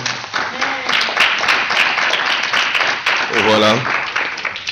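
A church congregation applauds and cheers as the preacher comes forward, steady broadband clapping running the whole time, with a voice speaking briefly over it and short sung or shouted tones rising above the crowd.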